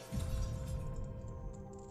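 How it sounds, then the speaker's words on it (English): Glass shatters in The Legend of Zelda: Majora's Mask, played as a randomizer: a sudden bright crash that rings briefly and fades under a steady background hum, with no talking. "Who broke glass?"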